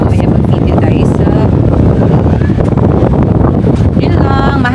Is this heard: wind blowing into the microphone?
yes